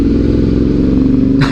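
A motorcycle engine runs steadily and loudly up close during a ride to a Cebu motovlogger meetup, with a constant low engine drone and a brief brighter noise burst near the end.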